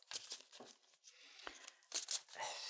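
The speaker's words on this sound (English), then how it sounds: "we'll shuffle the cards" Soft papery riffles and crisp flicking bursts of playing cards being shuffled, fairly quiet and close, in several short runs.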